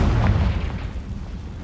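A Confringo blasting spell explodes in the Hogwarts Legacy video game, a single deep, loud boom with a rumbling low-end tail that fades slowly, with no voices over it.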